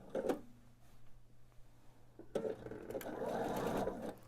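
A home sewing machine stitches two quilt blocks together, starting with a short burst and then running in a steady, close mechanical whirr that builds over the last couple of seconds.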